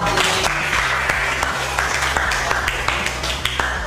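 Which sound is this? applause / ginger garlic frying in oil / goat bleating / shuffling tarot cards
applause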